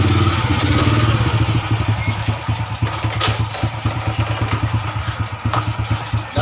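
An old motorcycle engine sputters into life and settles into a loud, close, lumpy idle with a steady rapid putter and light mechanical clatter throughout.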